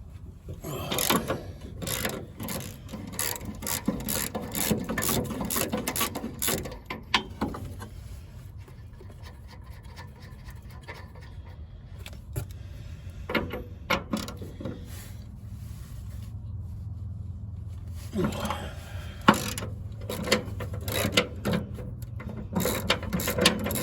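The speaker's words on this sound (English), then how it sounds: "we gotta get those bolts out. A deep socket 19." A ratchet with a 19 mm deep socket removes car subframe bolts, rapid clicking bursts repeating close by with pauses between turns, a low mechanical hum in the background.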